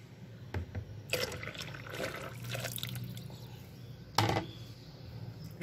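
Dissolved caustic soda solution poured into a mix for homemade orange-peel soap, a close liquid splashing and trickling in bursts with a sharper splash near the end, no talk.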